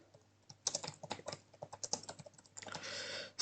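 Rapid, uneven keystrokes on a computer keyboard as HTML code is typed into a text editor, close and clear with short pauses between bursts and no voices.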